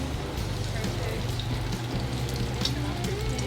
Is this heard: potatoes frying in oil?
yes